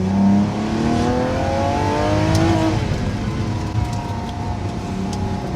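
Lamborghini Sian FKP 37 hybrid V12 revving hard, loud and close, its engine note rising and sweeping upward in pitch before settling into a sustained, throaty roar with crackles, alone without talk.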